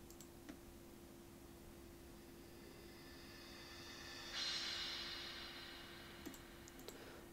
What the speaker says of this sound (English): so the crashes, they sound really nice as well.